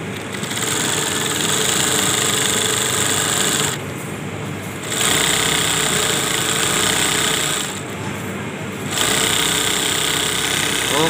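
A sewing machine stitches a test seam with a double-needle setup, running in three steady bursts of mechanical chatter separated by short pauses, close and fairly loud.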